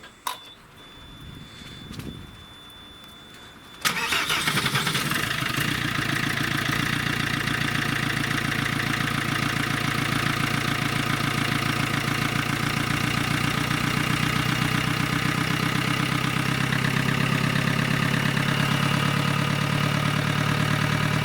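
An Iveco Daily van engine starts after a few seconds of quiet, following a cam belt change, then idles steadily and loudly with a continuous low rumble and mechanical ticking.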